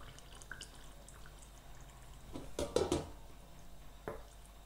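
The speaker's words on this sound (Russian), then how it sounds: "И наливаю в банку" Vegetable broth pours in a short burst into a glass jar, a splashing trickle lasting about a second, with a few faint drips and clinks around it.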